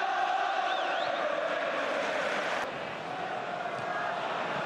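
Dense roar of a 44,000-strong football stadium crowd at Liverpool against Manchester United, sustained chanting and cheering that dips slightly midway, with a commentator's voice briefly over it.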